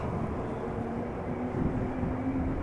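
An airliner touches down at Amsterdam Schiphol, heard as a steady, broad low roar of rolling and engine noise with a faint tonal hum, continuous and moderately distant throughout.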